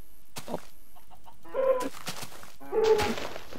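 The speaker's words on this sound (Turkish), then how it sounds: "Tavuk kaynıyor bura." Minecraft chickens cluck twice in a video game, short clear bursts over a quiet background with a few faint clicks between.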